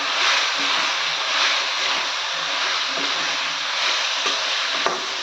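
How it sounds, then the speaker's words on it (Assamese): Meat is added to hot oil with spices and fries with a steady, loud, close sizzle and crackle that barely changes throughout, with no voices. "মছলাখিনি সিজা হৈছেই তেলত। এতিয়া মই লাহেকৈ মাংসখিনি ইয়াতে"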